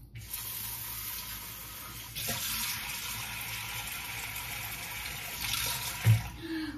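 Water runs steadily from a kitchen tap while rice is rinsed, a soft continuous hiss and splash at low level with a small clunk near the end, no talking.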